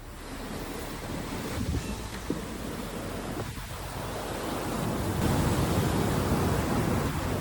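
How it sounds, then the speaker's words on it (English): Storm surge waves from a storm pound a beachfront on the Outer Banks, a steady roar of crashing surf mixed with gusting wind noise that swells louder toward the end. "Huge swells from Storm Aaron surged across a beachfront lodge, flooding the streets of the Outer Banks"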